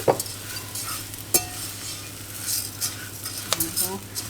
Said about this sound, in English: You just want to very gently stir it, just so that that little bit of oil and the onions manage to coat the rice.